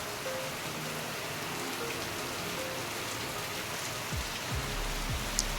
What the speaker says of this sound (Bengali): প্রচণ্ড জোরে বৃষ্টি এসে গেছে